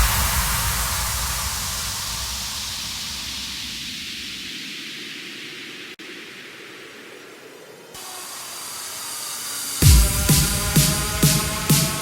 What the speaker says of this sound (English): The rest is literally just like effect sounds, white noise sweeps to fill it up and glue it together a bit.